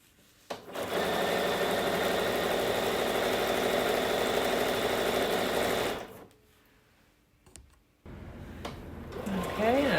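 A sewing machine runs a 1/4-inch seam joining 2-inch fabric strips, a steady close hum for about five seconds, then a quiet gap with small clicks before it starts up again.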